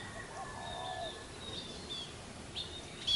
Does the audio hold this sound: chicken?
no